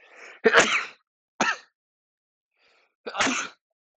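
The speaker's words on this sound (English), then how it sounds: "Now I have to sneeze." Several sneezes close by, a quick build-up then sharp bursts separated by silence, three distinct outbursts in a row.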